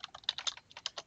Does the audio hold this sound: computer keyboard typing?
yes